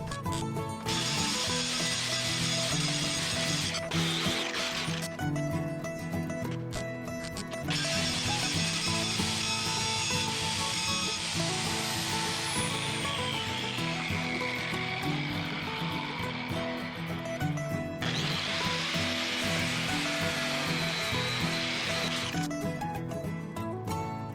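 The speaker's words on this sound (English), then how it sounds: "Here we're going to be grinding down the weld" Power grinder whining loudly as it grinds down a weld on a metal part for a dresser build, in long sustained bursts with brief dips between passes, close and continuous throughout.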